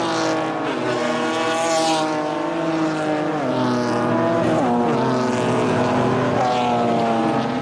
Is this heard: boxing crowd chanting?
no